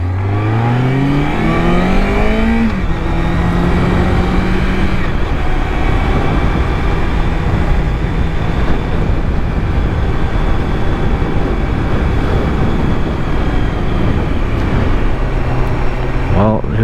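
A 2005 Triumph Daytona 650 sport motorcycle on a test ride, its engine revving up through rising pitch then holding a steady loud drone with wind rush, close to the mic.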